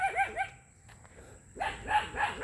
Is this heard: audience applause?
no